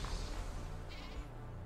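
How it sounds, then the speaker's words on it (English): A goat bleats faintly in the Minecraft video game, a brief bleat over a low, steady in-game background hum. "Oh, it's a goat."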